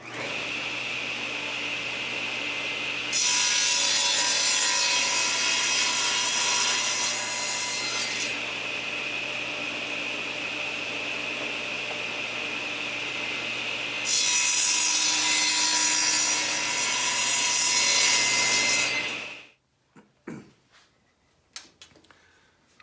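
A saw cuts a dado into wood with a loud, steady machine whine, and rough rasping cutting noise swells twice during two passes. It then stops abruptly, followed by scattered handling clatter.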